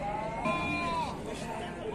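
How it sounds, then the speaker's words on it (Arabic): A Sardi sheep bleats at a weekly livestock market, one long wavering cry close by over a busy crowd murmur. "واحد خروف صربي"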